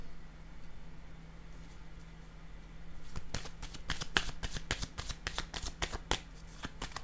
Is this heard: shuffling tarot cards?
yes